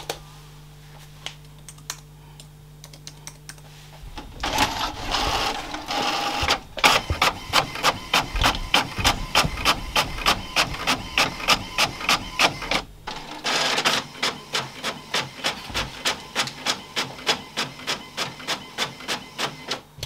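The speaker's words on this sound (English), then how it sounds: "I've already printed out some exam papers for the girls" A home printer printing exam papers starts with a whirring feed, then runs a rapid, regular train of mechanical clicks and clatters close by, pausing briefly partway before resuming its steady ticking.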